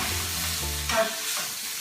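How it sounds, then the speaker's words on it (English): Cubed potatoes sizzle and fry in a hot pan, with a steady crackling hiss and a brief stirring scrape partway through. "the potatoes have been cooking for 2 minutes."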